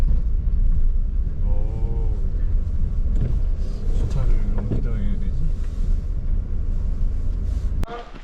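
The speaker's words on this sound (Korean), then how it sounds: "아 여기 올라오니까 차들이 많네" Steady traffic of many cars on a narrow, winding, snowy mountain road climbing to a radium hot spring in Tajikistan, a continuous rumble with wind buffeting the microphone and people talking briefly over it.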